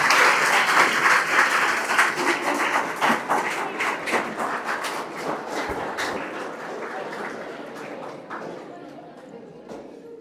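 Audience applause at a school basic life support training event, loud, dense clapping that gradually thins and fades over several seconds.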